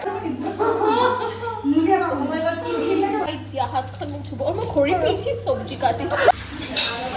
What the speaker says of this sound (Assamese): লাষ্টত যাই মোৰ তাতে বাচন ধোৱা কামটো থাকে।